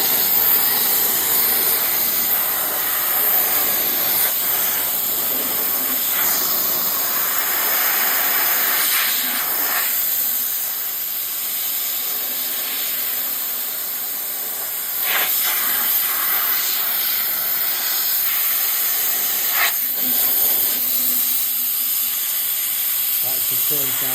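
Compressed air from an air line blows hard and steadily across car manifold parts, a loud continuous hissing rush that wavers with brief dips and surges as the nozzle moves.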